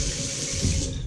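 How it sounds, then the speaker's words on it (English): Tap water running steadily into a container of jerky meat marinade, a loud, continuous close splashing stream with no talk. "fill the rest of the way up with water"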